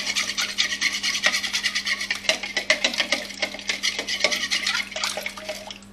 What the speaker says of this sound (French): je vais mettre le sel dans l'eau et je vais bien mélanger